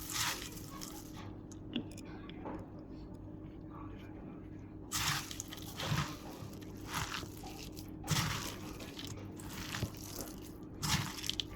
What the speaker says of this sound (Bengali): এই পর্যায়ে মুড়িতে একটু ভালোভাবে তেল মেখে নেব।